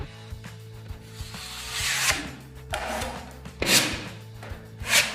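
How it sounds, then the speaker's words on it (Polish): A putty knife spreads and scrapes joint compound over screw heads on plasterboard, making repeated close scraping strokes that swell and fade, with small taps and clicks between them and no talk. "Wkręty fugujemy w ten sposób."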